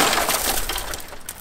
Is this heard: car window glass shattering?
yes